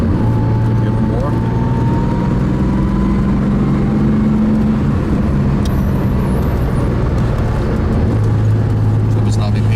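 A Porsche 2.7 RS accelerates with a steady, loud engine drone and road roar that holds throughout, while people talk inside the car.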